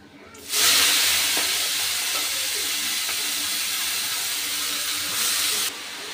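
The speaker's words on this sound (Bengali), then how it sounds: "এই কেটে ধুয়ে রাখা বাঁধাকপিটা এবার আমি তেলের মধ্যে দিয়ে দেবো।" A loud, steady hiss of chopped cabbage sizzling in hot oil bursts in suddenly and continues strongly, with no talking.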